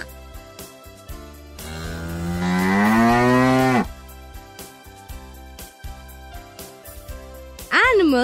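A cow moos loudly and long, a drawn-out bellow in the middle, then another moo starts near the end, set over a light patter of background sounds.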